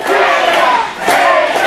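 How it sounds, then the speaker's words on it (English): A loud wrestling crowd at an independent wrestling show roars and cheers in a steady swell, close and full, dipping briefly before surging again. "Man, listen to this crowd. They're coming alive."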